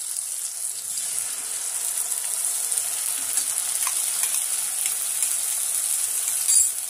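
Ginger, garlic and green chili paste sizzles steadily in a pan with fried tomato and onion, a close, continuous crackling fry with light stirring scrapes and a brief clatter near the end.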